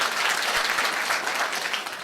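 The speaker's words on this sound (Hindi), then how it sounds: "ताली जोरदार बजाइए" Audience applause at a motivational speech event, a steady dense wash of clapping from a crowd that holds at an even, fairly loud level without any voices over it.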